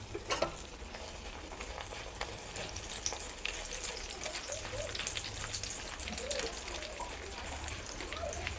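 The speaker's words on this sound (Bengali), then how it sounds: "চিড়াগুলো নেড়ে চেড়ে আমি ভালোভাবে ভেজে নেব।" Flattened rice (chira) frying in oil for homemade chanachur, a quiet, even sizzle with soft stirring scrapes and small crackles throughout.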